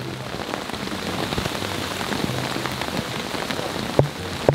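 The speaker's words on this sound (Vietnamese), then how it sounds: "Mưa quá hả?" Heavy rain pounding a surface during a camping trip, a loud, steady wash of drops with two sharp knocks close by near the end.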